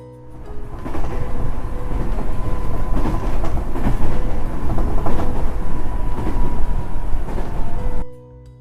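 Duronto Express train running, heard from inside a third AC coach: a steady rumbling rattle of wheels and carriage with faint clatter, continuous and loud, fading out at the end.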